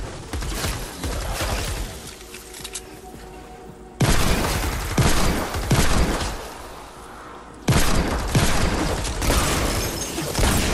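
A minigun in Fortnite Save the World roars in long sustained bursts, loud and dense, with brief pauses between three extended volleys of rapid fire.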